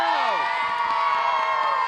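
Kids in the crowd at a Golden Eagles basketball game cheer and whoop, with rising and falling shrill yells over a steady wash of crowd noise.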